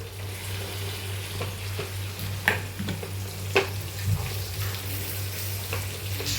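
Steady sizzling of fish frying in hot oil, with a constant low hum underneath and a few clinks and stirring sounds.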